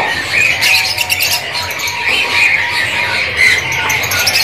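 Canaries sing and chirp at a kiosk in Pramuka bird market in Jakarta, with bright repeated high trills and calls over constant busy market noise, loud and close.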